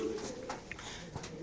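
Racer pigeons coo at a pigeon farm, soft low murmuring calls over the 1.4 seconds with brief sharper chirps, close by and moderately quiet.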